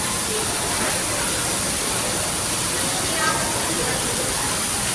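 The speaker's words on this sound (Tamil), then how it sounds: "வாட்டர் அங்கே வந்து விழுகிற மாதிரி" Water splashes down a small decorative waterfall into a fish pond in an ornamental display, a steady broadband rush with no breaks, close and fairly loud throughout.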